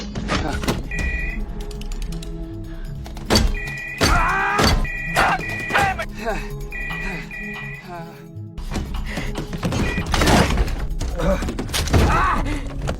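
Loud thumps and bangs from hitting and kicking a car's window glass in irregular bursts, with scraping and a few muffled voices in between, close and forceful.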